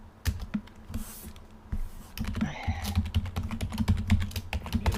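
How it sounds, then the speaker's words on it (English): Rapid typing on a computer keyboard at home, keystrokes clattering close by in quick irregular bursts with short pauses, loud and alone without talk. "I love that keyboard"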